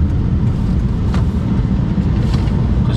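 A car driving around a corner, heard as a steady, loud low road-and-engine rumble from inside the vehicle, with no talking.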